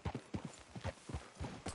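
Horse hooves clip-clop in a steady walking rhythm in a Western video game, close and moderately quiet, with no talk heard over the hoofbeats.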